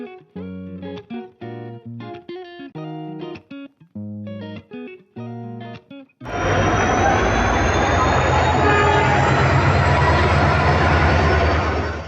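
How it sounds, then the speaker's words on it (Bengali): Melodic tones play in short phrases, then a loud, steady roar of a Medinipur local passenger train rushes in and fills the rest, rumbling continuously at close range. "আমরা এখন এখান থেকে ট্রেন ধরবো। এটা মেদিনীপুর লোকাল"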